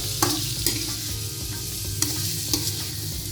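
Sambal ati ampela, chicken liver and gizzard chili, being stirred in a frying pan: a steady sizzle with sharp scrapes of the spatula at irregular intervals, close and alone.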